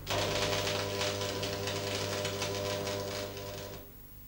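Manual metal arc stick welding tacks a T-joint on a bench, giving a loud, steady crackling buzz that cuts off abruptly just before the end.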